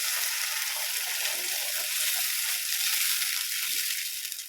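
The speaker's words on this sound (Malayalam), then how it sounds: "വെള്ളം ഒഴിച്ചു കൊടുക്കാം." Water poured into a hot pan over curry leaves and tempering while making oats upma, giving a loud, steady broadband hiss and sizzle that holds for several seconds and fades slightly at the end, with no talk.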